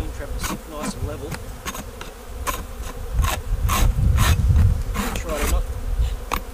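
Dense buzzing of many honeybees close by at an open hive, with scattered louder passes and some scraping sounds of wax being cleared underneath.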